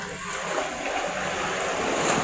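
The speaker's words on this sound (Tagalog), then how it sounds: "Maalo na guys oh. Nagsimula na ang hangin." Steady roar of sea surf mixed with blustery wind buffeting the microphone, continuous and loud with no pauses.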